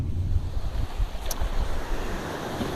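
Breezy wind on a lake shore, blowing steadily and buffeting the microphone with a low rumble, with a soft wash of water underneath and no voices.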